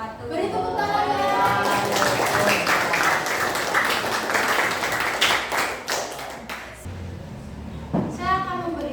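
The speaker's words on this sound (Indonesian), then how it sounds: "Beri tepuk tangan ya." Students in a classroom applaud together, dense clapping that swells and then trails off into scattered claps, with children's voices chattering around it.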